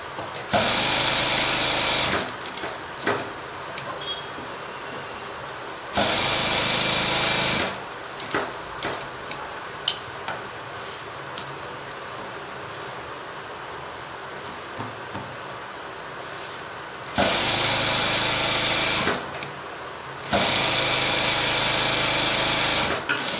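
A sewing machine stitches the neckline of a cross-cut blouse, running in loud, steady whirring bursts separated by quieter pauses, with no talk.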